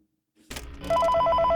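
Phone ringing in the FNAF video game: a bright, repeating electronic ring in fast double pulses. It starts after a short burst of noise and keeps going, loud and steady, with no talk over it.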